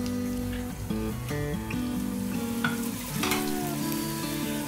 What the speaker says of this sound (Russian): спассируем лук, морковь и чеснок в оливковом масле